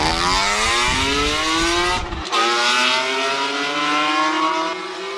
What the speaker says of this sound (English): Loud and proud, E46 up the hill.